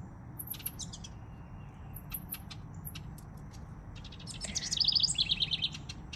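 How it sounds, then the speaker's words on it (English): Small birds chirping nearby, bursts of high thin tweets scattered throughout, then a faster run of repeated chirps toward the end over a soft background hum. "Little birds, little birds."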